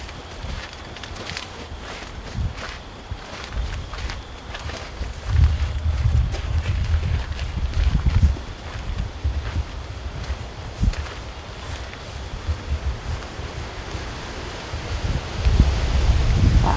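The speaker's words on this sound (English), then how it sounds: "Wow, it is windy." Gusty wind rushes and buffets the microphone in uneven bursts, with rustling leaves and occasional low rumbles.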